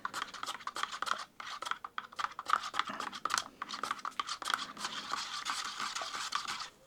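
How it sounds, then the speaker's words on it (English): A wooden stick scrapes and stirs pigment into milk paint in a container, quick irregular scratchy strokes and taps, close and fairly quiet, with no talking. "that's why I like to use one of these wooden sticks to mix it"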